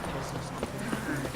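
Horse hooves clip-clop in The Witcher 3 in a quiet, brief trot, with talking over them.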